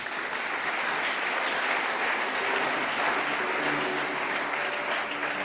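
A church congregation bursts into sustained, dense applause, loud and even throughout, filling the hall.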